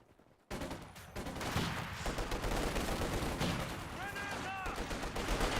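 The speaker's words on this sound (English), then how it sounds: "Shit, they're shooting at us!" Soldiers in the Company of Heroes 2 strategy game trade gunfire, a dense, continuous clatter of rifle and machine-gun shots across a busy battlefield, with brief whistling tones near the end.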